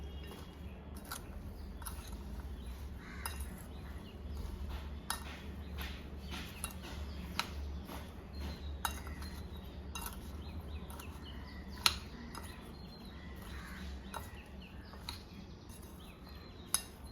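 A spoon stirs Kerala-style mango pickle ingredients including asafoetida powder, giving faint, irregular clinks and scrapes against a bowl over a low steady background hum.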